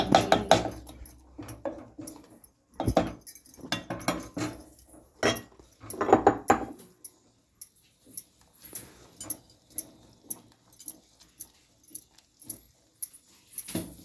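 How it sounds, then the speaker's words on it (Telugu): Ragi flour being stirred into porridge with a wooden paddle, giving irregular knocks and scraping thuds against the pot, busy at first and then sparser, with no talking. "ఇప్పుడు దీంట్లోనే పిండి వేసుకొని తెడ్డుతోనే అనేది బాగా కలుపుకోవాలి"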